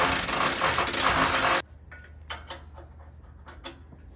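A ratchet drives lag bolts to secure seats on an aluminum fishing boat. A loud burst of broadband noise comes first, then a series of sharp, scattered close-up clicks.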